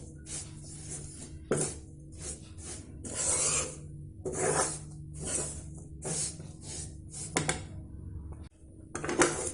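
A spoon scrapes and stirs a besan burfi mixture with coconut as it roasts in a pan, giving repeated rasping strokes, close and fairly soft, with short pauses between them.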